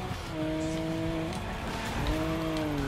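Toyota Supra drifting in the Need for Speed video game, its engine droning steadily with tire squeal woven through a short, continuous burst of game sound.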